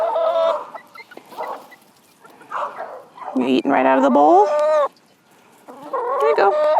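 Backyard chickens cluck and squawk close by in loud bursts, mixed with what sounds like a dog, while a person talks over them.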